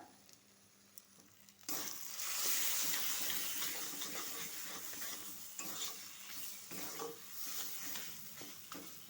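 Papaya ghonto curry with ghee being stirred in a pan: a loud, steady sizzle and hiss begins abruptly, with repeated scraping strokes of the spoon against the pan. No one speaks.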